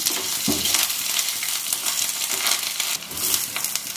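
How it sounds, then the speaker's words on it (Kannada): Green chillies and curry leaves frying in hot oil, a loud bright crackling sizzle with bursts of spattering and stirring scrapes, close and continuous with no talk. "ಮೆಣಸಿನ್ಕಾಯಿ ಫ್ರೈ ಆದಮೇಲೆ ಕರಿಬೇವು ಸೊಪ್ಪು ಹಾಕ್ಕೊಂಡಿದ್ದೀನಿ"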